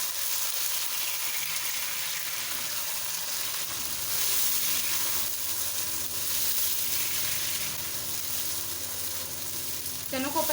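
Chickpeas fry lightly in a pan with a continuous, close, bright sizzle that holds steady throughout, with a faint stir or clink near the end.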